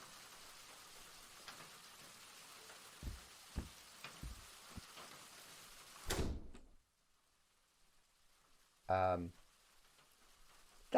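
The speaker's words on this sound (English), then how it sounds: "That door just lock?" A door in an old house bumps a few times and then shuts with a firm clunk over a faint rainy background, followed by near silence and a short spoken voice.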